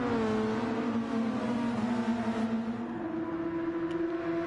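A pack of IndyCar race cars in a racing video game, engines whining loud and steady as they pass close by, a continuous high roar shifting slightly in pitch.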